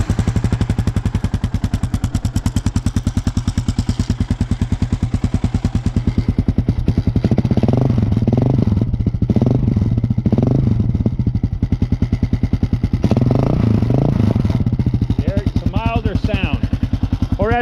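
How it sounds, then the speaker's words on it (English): A Kawasaki KLR650 motorcycle, first generation, running with a Lexx exhaust and its baffle fitted, idling with a steady loud thump and then blipping the throttle through several sharp revs, up close. "So let's check this out with the baffle in it. The Lexx exhaust with the baffle."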